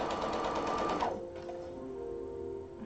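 Sewing machine stitching a hem, a fast steady whirring run for about a second that stops abruptly, followed by quieter mechanical hum and faint rattles, close to the listener.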